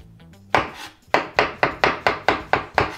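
A knife slicing mushrooms on a wooden cutting board, a quick run of about eight crisp, evenly spaced chops after an opening cut, close and clear with no talking.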